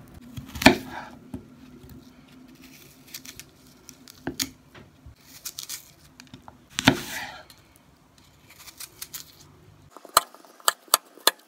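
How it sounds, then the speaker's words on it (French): A knife chops onion, apple and white radish on a board for kimchi, with scattered close, crisp thuds and squishy cuts, then a quick run of sharp, evenly spaced chops near the end; no one speaks. "Donc il y a un oignon que je vais couper."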